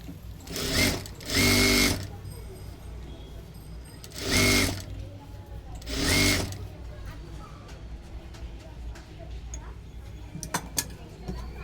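Sewing machine stitching a blouse sleeve in short bursts, four loud whirring runs with pauses between them, close up in a quiet room.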